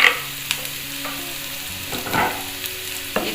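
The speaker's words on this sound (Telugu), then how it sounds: "హై ఫ్లేమ్ మీదనే వేడి చేసుకుంటున్నాను, ఫ్రై చేసుకుంటున్నాను." Gobi manchurian frying over a high flame with green chillies and curry leaves, a steady sizzle broken by the scrape and clatter of a spoon stirring the pan.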